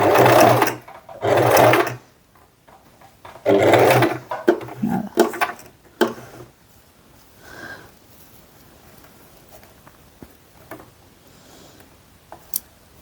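A sewing machine stitches a fabric bag strap in several short bursts of rapid mechanical whirring, loud and close, separated by quiet pauses filled with small handling clicks and rustles.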